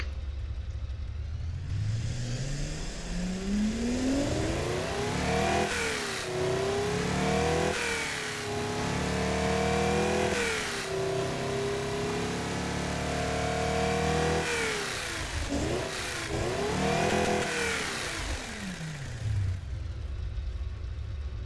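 A car engine revs up and down repeatedly, rising and falling in pitch through several throttle pushes, loud and close with no talking.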